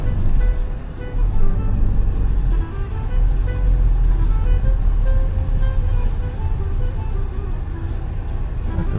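An old Volkswagen car's engine runs steadily nearby with a low, constant rumble and a faint rhythmic ticking over it; no speech.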